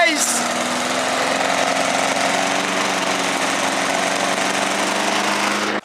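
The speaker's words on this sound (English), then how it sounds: "It's backfiring, boys!" Gasoline lawn mower engine, clogged with berries, running loud and steady throughout with a constant droning roar, no distinct backfire pops standing out.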